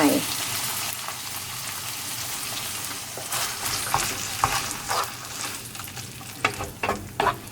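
A spoon stirs tomato pasta sauce in a hot pan, giving a steady loud sizzle and bubbling with scraping strokes that grow more pronounced toward the end.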